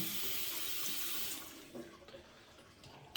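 Cold water streams from a bathroom tap into the sink for a face rinse after shaving with a safety razor, a steady close hiss that cuts off partway, leaving faint drips and small splashes.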